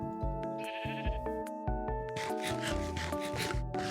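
Sheep bleat in Minecraft survival gameplay, short wavering calls mixed with rubbing and scraping noises and tonal game sounds, moderately loud and with no talk over them.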